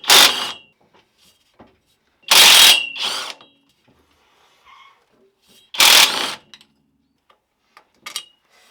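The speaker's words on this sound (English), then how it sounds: "It's a specialty tool for getting to the 916 bolts." Specialty tool working the 916 bolts on a V8 Land Rover Discovery 1, giving a few loud, short ratcheting mechanical bursts separated by quiet gaps, close by with no talk.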